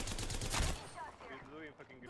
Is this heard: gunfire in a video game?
yes